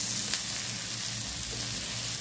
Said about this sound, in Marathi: तवा सर्व बाजूने फिरवून घावण छान भाजून घ्यायचं आहे